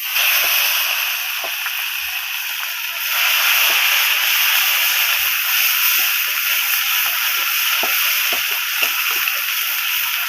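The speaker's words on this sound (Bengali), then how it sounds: "পেঁয়াজটা আমি ভালো করে ভাজবো।" Ground onion paste sizzles in hot oil in a pan for a Bengali fish curry, a loud, steady hiss that runs the whole time with scattered small pops and crackles.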